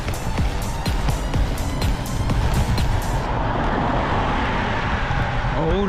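A car drives along small Swiss mountain roads near the Col des Montets, its engine and tyre rumble steady and close, with rapid ticking and rattling over the first few seconds before a smoother road roar.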